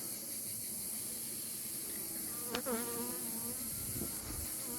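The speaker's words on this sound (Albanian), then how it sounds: "Ja t'ju fry pak të largohen bletët" Honey bees buzzing around a hive frame near Durrës, a close, steady hum with a sudden puff of breath blown across them and a brief rise in buzzing.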